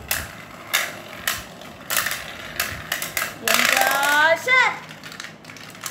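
Beyblade Burst tops, Zillion Zeus against Archilles, spin and clash in a stadium, giving a run of sharp metallic clicks and scraping hits followed by a sustained whirring grind. Quiet background chatter can be heard.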